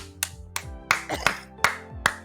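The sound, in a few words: hand clapping imitating a sound effect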